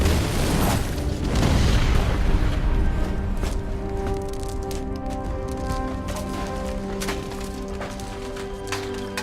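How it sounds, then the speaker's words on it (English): A burning room bursts into flames and explodes in a game scene: a heavy boom swells early, then rumbling debris and scattered crackles fade under a sustained tonal score. "Batman races toward the room where Jason was held, only for it to burst into flames and explode."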